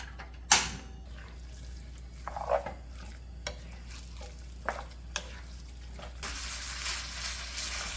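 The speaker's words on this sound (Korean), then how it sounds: "이 고기 양념한 거를 이제 볶을 겁니다." Seasoned meat for a dumpling filling stir-fried in a pan, with quiet sizzling, a few sharp clacks and scrapes of a utensil, and soft stirring at close range.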